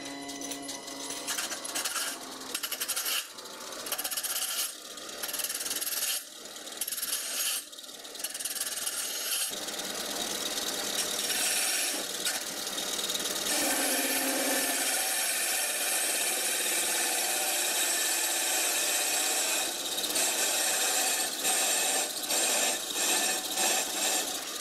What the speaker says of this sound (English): As you can hear, more wood is being cut.